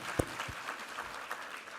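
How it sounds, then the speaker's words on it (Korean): Applause from a church congregation during a Sunday worship service, a faint, steady patter of many hands with a few sharper claps standing out, heard from a distance. "우리 하나님께 감사와 영광의 박수 올려드리겠습니다"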